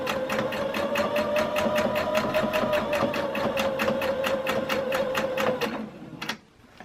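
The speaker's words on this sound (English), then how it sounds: "we're gonna sew all the way down till we get to the pocket" Sewing machine running steadily as it stitches down a men's polo shirt, a fast even rhythm of needle strokes held close and loud for about six seconds before stopping abruptly, with no voices.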